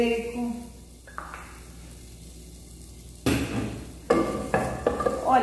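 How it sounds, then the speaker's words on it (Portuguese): Bacon dropped into a lightly oiled pan on the stove for a sausage-and-bacon farofa, starting with a quiet hum, then bursting into loud close sizzling and frying with a few sharp clatters of the pan. "Olha, eu vou colocar aqui o bacon."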